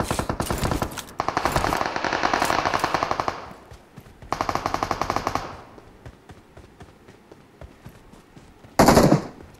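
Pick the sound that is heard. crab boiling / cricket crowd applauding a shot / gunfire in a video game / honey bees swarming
gunfire in a video game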